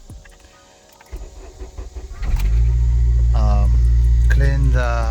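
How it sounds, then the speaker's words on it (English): A Honda Civic Si engine with a rough idle cranks and starts, then settles into a steady, deep idle rumble while a voice speaks briefly over it. "let's start the car and see how it's gonna idle"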